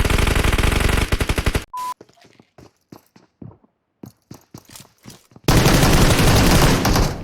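Video game gunfire: dense, loud automatic bursts at the start and end, with a sparse run of single shots and clicks in between, all close and dominant with no talk.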